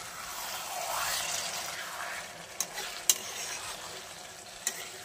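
Fried potatoes stirred into a fish curry in a pan, a steady broad sizzle with a few sharp scraping clicks of the spoon near the end, close and moderately loud with no talking.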